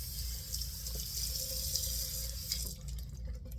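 Tap water runs steadily into a sink while lather is rinsed from a boar-hair shaving brush, a continuous close splashing hiss that thins out briefly near the end.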